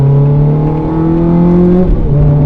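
A car engine drones loud and close on the Mondello racing circuit, holding a steady pitch that climbs slightly under power. It then drops briefly and settles again as the driver shifts down, with no talk.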